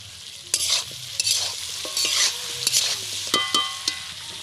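Chicken frying with spices in a pan, a soft sizzle broken by repeated close scraping strokes of a spoon stirring, loud and irregular.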